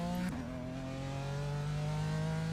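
Loud race car engine in a racing game, a strong steady engine tone whose pitch dips briefly, then climbs slowly and holds, droning close and loud with no talk.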